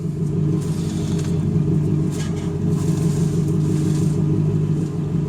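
A Toyota or Lexus engine idles during a power steering fluid flush, a loud, steady low rumble with a constant hum and no talking.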